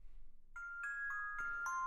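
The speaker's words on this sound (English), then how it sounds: "those bells you can hear in the track go throughout it" Bells chiming a song melody, struck notes ringing out one after another with sustained tones, fairly soft and alone, in a recorded music track.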